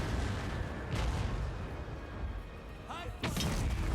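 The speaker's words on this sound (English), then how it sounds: "Rockets firing off our artillery." Artillery rockets firing during a Total War: Warhammer 3 battle: a steady low rumble with a sharp whooshing burst near the end, fairly faint, under battlefield din.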